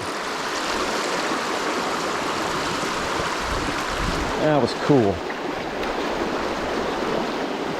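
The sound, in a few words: heavy river water rushing while euro nymphing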